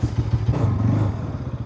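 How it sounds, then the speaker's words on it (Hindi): A motorcycle engine idles after a cold start, with a steady, loud, close thumping rhythm and some mechanical clatter. No voices. "बाइक हो रही है कोल्ड स्टार्ट, तो निकलते हैं।"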